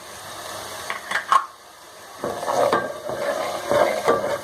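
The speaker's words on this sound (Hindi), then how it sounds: "इस ऑयल के अंदर हम इनको अच्छी तरह से भून लेंगे।" Whole cumin, cinnamon, green cardamom, black pepper and cloves fry in hot oil. Close, uneven bursts of crackle and spatter are broken by brief scraping stirs and a short quieter pause, with no voices.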